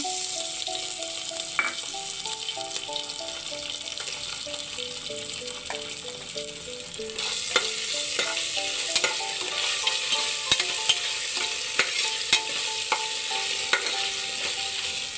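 Ginger garlic paste fries in a pan over low flame for a pulao, giving a steady soft sizzle broken by frequent scraping and stirring clicks, with background music running throughout.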